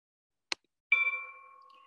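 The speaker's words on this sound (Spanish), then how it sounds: "ahora que llama la campana misa" A church bell calls people to mass at a Spanish hermitage: a single sharp metallic tap, then one clear ringing strike that sustains and slowly decays, heard alone in quiet surroundings.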